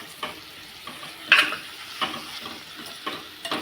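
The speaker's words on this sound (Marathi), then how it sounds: "थोडंसं खोबरं ओलं खोबरंच घ्यायचं आणि ते सुद्धा किसलेलं आणि थोडीशी कोथिंबीर आता हे आपण मिक्स करून घेणार आहोत" Chilli vegetable being stirred in a pan with grated fresh coconut and coriander, soft scraping strokes and light ticks over a low sizzle, close and fairly quiet, no voices.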